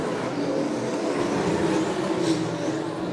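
Sprint car engines roaring at Butler Motor Speedway as a pack battles down the back straightaway, a dense, loud, sustained engine drone heard from the grandstand without a clear single pass-by.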